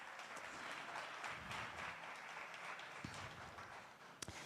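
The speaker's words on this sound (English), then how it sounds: "I thought we'd clap hands for what we are trying to do." An audience at a university startup event applauding, a faint, steady wash of many hands clapping at a distance, with a couple of sharper knocks near the end.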